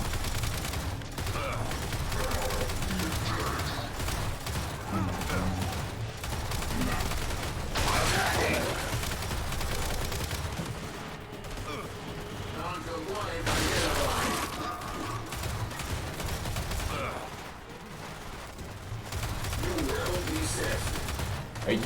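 Sustained turret gunfire in the shooter game Gears 5, a dense, continuous roar of rapid shots and mechanical clatter that barely lets up, with voices talking over it.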